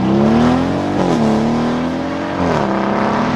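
Loud, close drone of a Lamborghini sport SUV with a 4.0-litre twin-turbo V8 pulling under acceleration, pitch climbing steadily, briefly dipping at about one second and again near two and a half seconds as gears shift.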